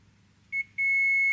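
Multimeter beeping in continuity mode while probing a capacitor on an AEG Electrolux washing machine inverter board: a short beep, a brief pause, then a sustained steady tone, clear and close over faint background hum.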